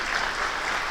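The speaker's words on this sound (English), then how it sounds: "we give them a round of applause for our elected officials" Audience applause at a Chamber of Commerce meeting, a dense, steady clatter of many hands clapping together indoors, sustained evenly throughout the short burst with no talk over it.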